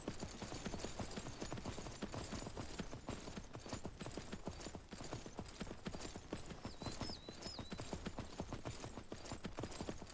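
Horse hooves clip-clop steadily and continuously in the Myth of Empires video game, a dense rhythmic run of hoofbeats at a constant moderate distance, with a faint brief whinny-like tone partway through.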